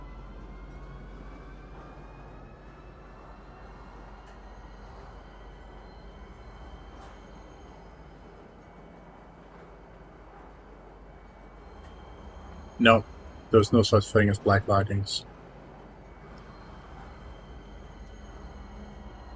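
Steady low rumble of a metro train arriving at a station in Star Citizen, a continuous droning hum throughout, with a person talking briefly over it partway through.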